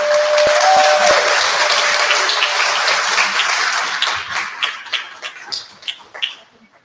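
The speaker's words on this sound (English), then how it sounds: "Please give her a big round of applause" Loud crowd applause at a rally in Dearborn, Michigan swells at the start, then thins into scattered individual claps that fade toward the end.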